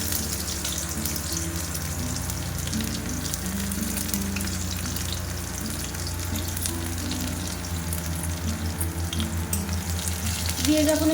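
Garlic cloves fry in oil in a home kitchen, a steady crackling sizzle under a constant low hum, with a louder burst of spattering near the end.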